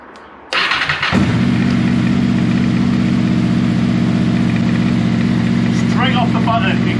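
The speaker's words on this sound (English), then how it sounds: "it cranked probably two or three times. And as you can hear, it's running absolutely beautifully." A Honda VFR800 VTEC motorcycle engine fires up after a brief crank, then settles into a steady, loud, close idle that continues to the end.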